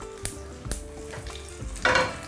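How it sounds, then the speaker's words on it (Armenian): Food sizzling in olive oil in a pan for a warm veal and beetroot salad, a soft steady crackle broken by a few sharp stirring knocks and a louder burst of hissing near the end. "Սոխ ենք տապակելու։"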